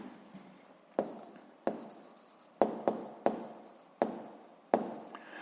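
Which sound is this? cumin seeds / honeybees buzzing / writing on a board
writing on a board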